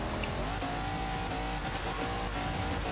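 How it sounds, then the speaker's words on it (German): A car in the video game Forza Horizon 2 skids and slides, its engine droning steadily under a continuous rough tire noise, fairly quiet and without speech. "Oh, jetzt rutscht der wieder."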